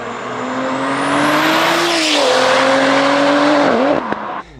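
A 1000 hp BMW M140i accelerates hard, its loud engine note climbing steadily in pitch with a brief dip and tire chirp near the end as it pulls away close by.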